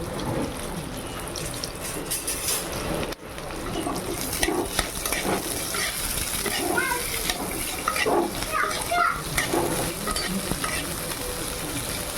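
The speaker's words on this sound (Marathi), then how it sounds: "आपण आता थोडं भेंडीला तेलामध्ये फ्राय करून घेऊया" Okra frying in a ladle of oil in a pan for dahi bhindi, with a steady dense sizzle and occasional stirring clatter.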